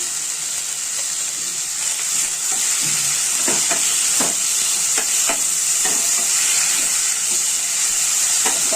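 Steady loud sizzle from a kadai frying with salt, with scattered scraping stir strokes from about the middle onward and no talking.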